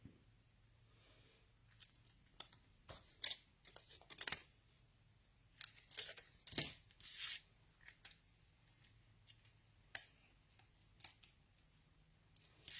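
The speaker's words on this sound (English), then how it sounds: "I just run my scissors round the edge of this because I only want part of it." Scissors snip around the edge of a paper die-cut tulip during a live crafting session, a series of close, crisp cutting clicks and rustles at an irregular pace over a quiet background.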